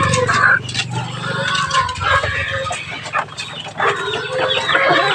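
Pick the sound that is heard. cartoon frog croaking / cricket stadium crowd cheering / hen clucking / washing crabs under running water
hen clucking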